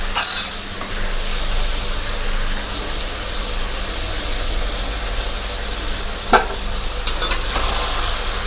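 Chicken pieces fry in a pan with a ground spice paste for a Bengali chicken and potato curry, giving a steady close sizzle with a few sharp scrapes of stirring near the end.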